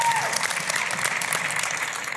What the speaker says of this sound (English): Let's just give a round of applause here.